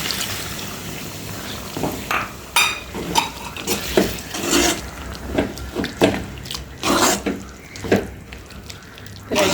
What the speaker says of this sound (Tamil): தேங்காய் பாலை இதோட சேர்த்து பிரட்டி விடுவோம்.